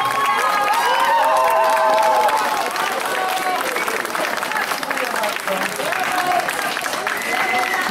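A crowd at the close of a community event gives loud, sustained applause mixed with cheers and shouts, the clapping dense and continuous throughout, while voices carry over it.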